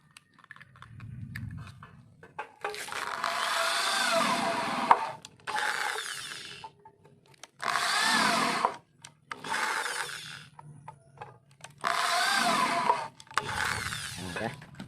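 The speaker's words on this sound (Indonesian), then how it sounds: "Gunakan bor dan bautnya." Power drill boring holes into light steel framing, in several loud bursts of high whine separated by short pauses, with some speech between them.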